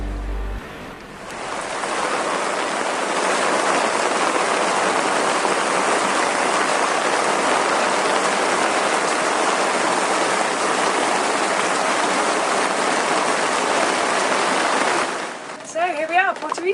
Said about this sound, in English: Not quite the welcome present that we were after, this downpour